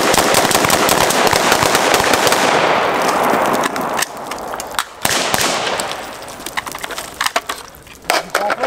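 Rapid rifle gunfire on a Green Beret range day in Pennsylvania, with strings of rounds fired at a drill target. A dense, loud volley of sharp cracks comes first, then scattered single shots with brief gaps, and no talking.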